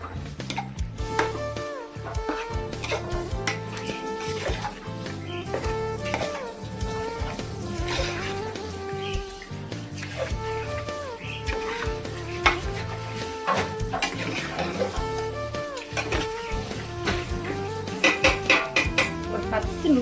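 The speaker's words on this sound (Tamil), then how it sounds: "நல்லா வதக்கி விடுவோம்" Onions, lemon and tamarind for chicken biryani stirred and sautéing in a pan, a continuous sizzle broken by frequent close spoon scrapes and clinks against the metal.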